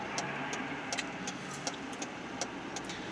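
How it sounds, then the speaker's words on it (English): Car engines and passing traffic rumble continuously at a busy road junction, a steady moderate wash of vehicle noise with a few faint sharp clicks on top. "this is an extremely busy junction. We've got lots of vehicles, many vehicles turning right and left"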